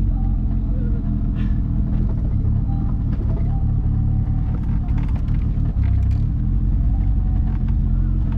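A turbocharged Volkswagen Voyage on the road, its steady low engine rumble and road noise continuous and close, filling the interior throughout.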